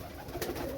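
A Saki pigeon, a Pakistani fancy breed, gives a soft, low coo from close by, one brief throaty call with no speech over it.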